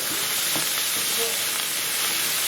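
Curry paste stirred into sizzling oil for a British Indian restaurant chicken jalfrezi, a steady close frying hiss with soft scraping stir strokes running throughout, no voices.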